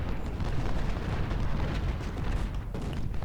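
Artillery cannon fire in the Ultimate General: Civil War strategy game, a dense, continuous rumble of booms and blasts that fills the whole stretch at a loud level.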